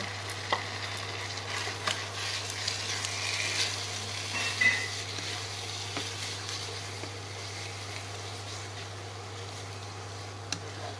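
An egg frying in a pan with oil while Korat-style stir-fried rice noodles are cooked, a steady soft sizzle with occasional clicks and scrapes of stirring, and a constant low hum underneath.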